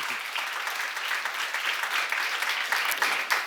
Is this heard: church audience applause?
yes